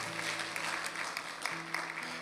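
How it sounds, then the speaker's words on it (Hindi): Church congregation clapping for Sister Rehana during a pastor's sermon, a steady wash of applause at moderate volume with a faint tonal hum beneath, running unbroken throughout. "पहली दफा जोरदार तालियां सिस्टर"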